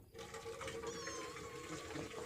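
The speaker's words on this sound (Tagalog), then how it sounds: "Ba, ito yung mga kuting mo, si Lilay, saka si Liloy." Kittens on a farm meow faintly in short, thin calls over a steady background hum and a wash of water-like noise.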